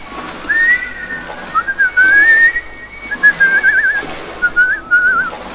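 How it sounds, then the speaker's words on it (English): Whistling in the horror video game Black Water Station, a clear melodic tune with wavering, trilling notes in short phrases, fairly loud and close with no talk over it. "Who's whistling?"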